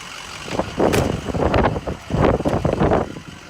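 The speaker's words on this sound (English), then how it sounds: "You can hear the truck spinning the alternator." A 2006 Ford F-350 Super Duty pickup engine idles steadily nearby, a low rumbling drone with uneven surges and some wind noise, no voices.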